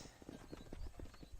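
Horse hooves clip-clopping in the video game Red Dead Redemption, a quick, uneven run of faint soft thuds heard on their own.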